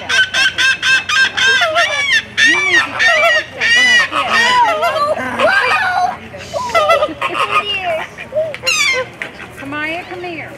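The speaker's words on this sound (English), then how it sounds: "Got several ducks over here also." A dense, loud chorus of honking ducks calling, overlapping continuously close by at a pond, with harsh quacks and honks repeating throughout and a few seagulls mixed in.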